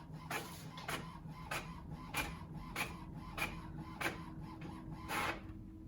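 A home printer runs a scan, its mechanism clicking and creaking in a steady series of sharp ticks about every half second over a low motor hum, quiet and close.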